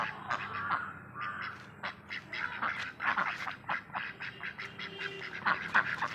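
Ducks quack continuously and busily, many overlapping calls in quick succession from what sounds like a flock, steady and moderately close throughout.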